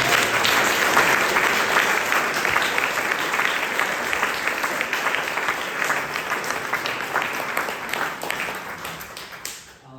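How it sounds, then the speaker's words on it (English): A crowd at a town-board candidates night in Stanford applauds the candidates with loud, sustained clapping that holds steady for several seconds and then tapers off sharply at the end. "please a round of applause for the candidates"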